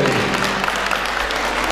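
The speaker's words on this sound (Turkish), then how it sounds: "onun için bir alkış istiyorum" An audience gives short, continuous applause for Mehmet Yüzel at a charity night for people with disabilities in Freistadt, Austria. The clapping is brief and fairly even.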